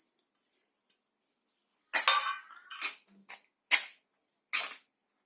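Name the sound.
mixing milk powder and cardamom into besan barfi mixture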